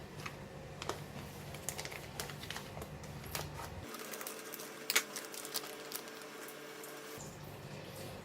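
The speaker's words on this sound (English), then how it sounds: "Alright, I'm going to cut the salted vegetable." A knife chops salted pickled mustard greens for Chinese-style pork soup, giving a quiet run of quick, light, irregular taps close by, with no talk.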